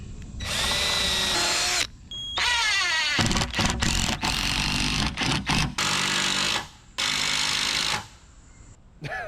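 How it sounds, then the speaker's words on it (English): A power drill whirs loudly in repeated bursts while drilling a pilot hole for a bed frame build, revving up and cutting out with short pauses between runs, close by with no talk. "take a drill bit that is smaller diameter than your screw, drill a pilot hole"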